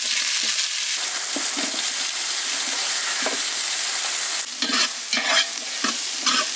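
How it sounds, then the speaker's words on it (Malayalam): Five sliced big onions frying in a pan for kappa biriyani, a dense, loud sizzle throughout with clattering stirring strokes growing busier near the end, no voices. "അഞ്ച് വലിയ ഉള്ളി നമ്മളിതിലോട്ട് ആഡ് ചെയ്യാണ്"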